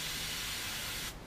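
An airbrush sprays paint in a loud, continuous hiss onto a 1/48 Tamiya de Havilland Mosquito plastic kit, close up, then cuts off abruptly near the end.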